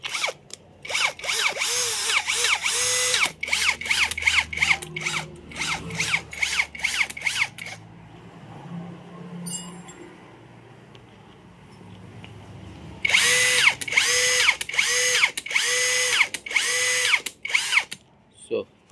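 A Tanzu impact drill whirs in loud bursts. A fast run of sharp pulses is followed by a quiet gap, then another long high-pitched running stretch close by.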